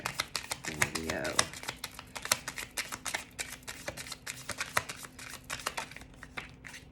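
Tarot cards being shuffled and laid out during a Leo reading, giving a run of quick dry flicks and taps, close and fairly soft, with a voice talking briefly at the start.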